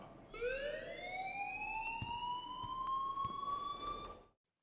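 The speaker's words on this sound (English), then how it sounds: "please turn off that alarm since that's your job" A continuous electronic alarm from Life is Strange rises in pitch and then holds a steady, piercing, fairly loud tone for about four seconds before cutting off abruptly, with faint clicks underneath.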